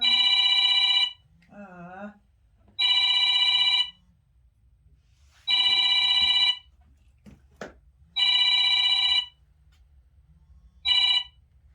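A telephone rings in regular bursts, five loud electronic trills separated by pauses, with faint background movement between rings.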